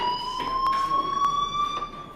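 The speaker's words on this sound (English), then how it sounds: "Hey, do you hear that fire alarm?" A fire alarm in the video game Life Is Strange rings with a steady, piercing electronic tone that pulses faintly, loud and continuous throughout the short stretch, with no one speaking.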